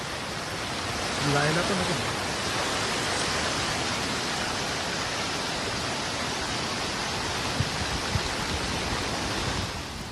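Floodwater roars over a washed-away road to Namdarewadi near Khed, Maharashtra, in heavy monsoon rain, a loud, unbroken broadband rush filling the whole scene, with a short voice heard early on.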